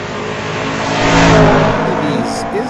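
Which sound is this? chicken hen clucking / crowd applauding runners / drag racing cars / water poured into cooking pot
drag racing cars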